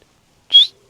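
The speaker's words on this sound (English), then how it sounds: "Not the that classic springtime chiff-chaff singing, but calling, contact calling," A single short, clear, rising call from a chiffchaff giving a contact call rather than song, heard alone against silence, close and distinct.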